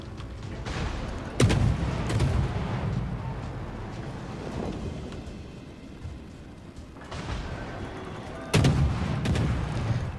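Naval guns firing in World of Warships during a destroyer battle between Japanese ships: two loud heavy gun blasts with rumbling tails, separated by several seconds of low battle ambience.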